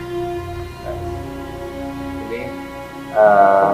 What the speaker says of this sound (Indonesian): 3 kali tadi terdengar suara mesin absennya.